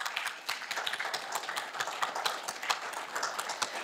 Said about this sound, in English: Let's give all of our survivors a great big round of applause.